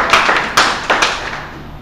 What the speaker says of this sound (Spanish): Quien lo haya dicho, fuerte aplauso.